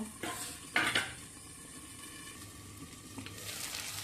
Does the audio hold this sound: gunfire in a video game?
no